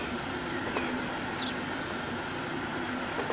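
A train runs through a modern city in the Transport Fever 2 video game, giving a steady rumbling roll with faint clicks and a brief high squeal, and no talking.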